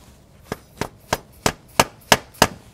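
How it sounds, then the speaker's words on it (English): Seven evenly spaced thuds from a dead blow hammer driving a front crankshaft seal into a GM Ecotec 1.4L engine strike in a steady rhythm, each a short, dull knock close by. "use a dead blow hammer and you drive it in"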